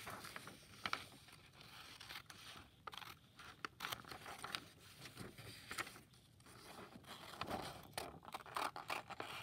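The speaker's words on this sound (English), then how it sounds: "Now let's cut that out." Scissors cutting paper for a grade 5 math problem set: quiet, irregular snipping and scraping strokes spread over several seconds, close but soft, with no talking.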